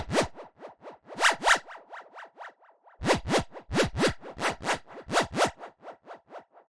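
A synthetic zip effect from an electronic music sample pack: a rapid series of bright, sweeping zips, with loud clustered bursts separated by quieter repeating echoes, heard alone.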